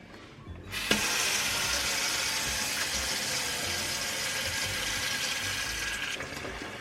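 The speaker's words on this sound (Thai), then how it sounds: "เราจะเอาข้าวเหนียวที่นึ่งเนี่ย ไปล้างน้ำให้สะอาดก่อนนะคะ" Steamed sticky rice being washed in water in the kitchen: a steady, close rush of running water from a tap filling a bowl, continuous and even for several seconds with no talking.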